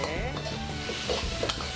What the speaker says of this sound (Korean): 이렇게 고기를 볶듯이 살짝 튀기면 육즙을 가둘 수 있습니다.